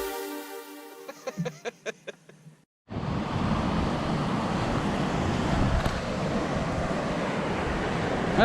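Ocean surf rolls in at Matagorda on the coast, a broad continuous wash mixed with wind buffeting the microphone. It follows a few seconds of short tonal beeps and a brief pause.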